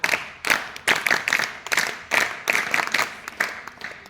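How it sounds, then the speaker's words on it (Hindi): An audience claps for a revered Maharaj ji at a spiritual discourse gathering in India, sounding as steady, fairly close bursts of applause in repeated waves with no talk. "ताली बजाइए महाराज जी के लिए"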